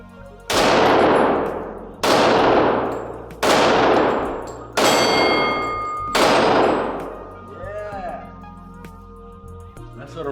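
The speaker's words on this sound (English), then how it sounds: "so let's see if I can hit it more than once with this Glock right here" Five loud, close gunshots from a Glock 22 Gen 3 .40 S&W pistol fired at a target, spaced roughly a second apart, each with a sharp crack, a metallic ring and a decaying echo, then quieter handling noise.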